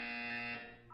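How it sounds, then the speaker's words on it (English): Electronic buzzer in the video game Portal 2, a loud steady tonal drone sounding alone for about a second before tapering slightly at the end. "When you hear the buzzer, look up at the ceiling."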